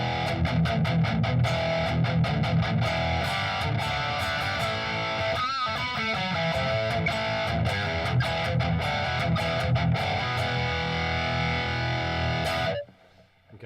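Electric guitar runs through the Line 6 Helix Badonk amp model, a dense, heavily distorted high-gain tone with chugging palm-muted chords and a brief squealing bend midway, loud and continuous before cutting off abruptly near the end.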